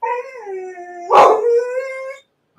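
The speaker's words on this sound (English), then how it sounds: "I think next door neighbors just let their dogs out." A neighbor's dog howls outside, a drawn-out wavering tone broken by a sharp bark in the middle, then continuing to howl before stopping, loud and fairly close.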